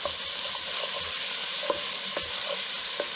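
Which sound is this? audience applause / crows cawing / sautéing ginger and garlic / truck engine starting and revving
sautéing ginger and garlic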